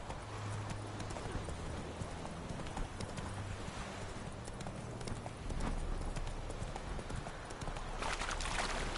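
Roach, the horse in the video game The Witcher 3: Wild Hunt, gallops with fast, continuous, rhythmic hoofbeats against a dense bed of ambient game sound, and a brief louder rustle comes near the end.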